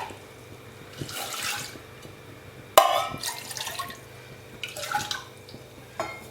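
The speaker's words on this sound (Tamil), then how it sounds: "இதுக்கு தேவையான தண்ணி ஊற்றிக்கணும்" Water splashes and trickles into a cooking pot in a few separate pours while making Chettinad brinjal pachadi, with one sharper splash partway through; fairly close and moderately loud.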